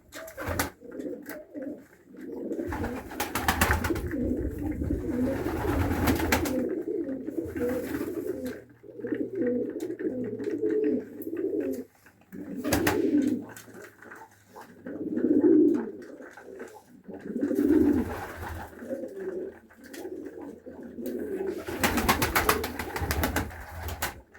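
Pigeons cooing steadily while being fed, repeated low throaty coos in overlapping bursts close by, continuing with short pauses for about twenty seconds.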